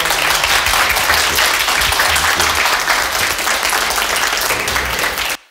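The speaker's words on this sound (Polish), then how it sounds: "Czas na oklaski." Audience applause at the close of a spoken storytelling event, a dense, steady wash of clapping from a large crowd that holds for about five seconds before cutting off abruptly.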